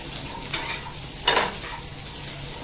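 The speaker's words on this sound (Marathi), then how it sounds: "आता आपण ना यात लसूण टाकून घेऊया कांदा छान ना गुलाबी होईपर्यंत परतत राहायचं आहे" Onion and garlic sauté in a pan with a steady close sizzle, while a spoon stirs them in two brief scraping strokes.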